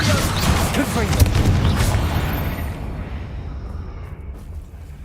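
A Confringo blasting spell detonates in the Hogwarts Legacy video game, a loud rumbling boom that swells at the start and then rolls away into a fading, noisy tail over several seconds.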